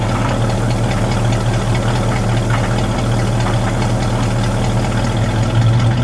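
A 1967 Pontiac Firebird convertible's 400 cubic inch V8 idles close by with a steady, loud, low rumble throughout and no talk.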